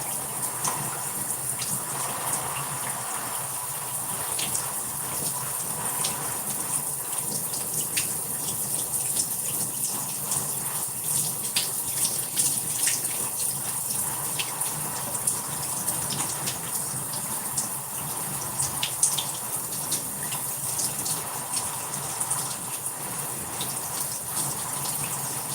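Shower water runs and splashes steadily, a continuous hissing spray in an enclosed bathroom that stays even in level throughout with no talking.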